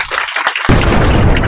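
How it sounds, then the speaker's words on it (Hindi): Students in a coaching centre break into loud applause, a sudden dense burst of clapping that takes over after a brief pause and holds steady close by. "जोरदार ताली बजा दीजिए आप।"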